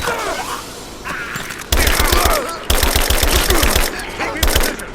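Heavy automatic gunfire in the video game Rise of the Tomb Raider, loud and close, with rapid bursts rattling in dense volleys after a quieter opening, faint voices and battle noise beneath.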